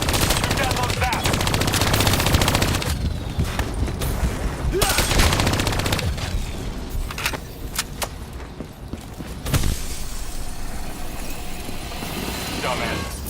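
Gunfire in the Call of Duty Black Ops 3 campaign: dense automatic bursts and rapid shots with explosive cracks, loud and continuous, mixed with game effects and brief pauses between volleys.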